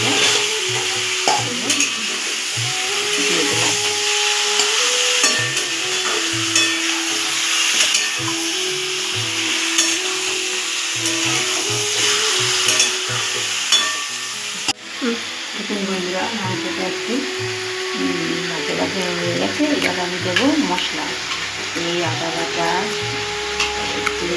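Chicken pieces stir-frying with fried onions in a pan for Bengali chicken kosha, a steady close sizzle with frequent stirring scrapes and clatter throughout, with some clicks and a brief dip midway.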